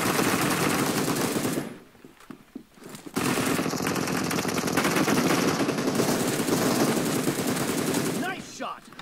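Sustained automatic gunfire in PUBG Mobile, loud and continuous bursts with a short lull near the two-second mark before the shooting resumes and carries on.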